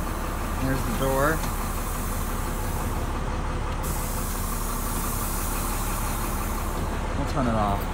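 A bus engine idles with a low, steady rumble that runs unbroken from start to finish, while a person talks nearby over it.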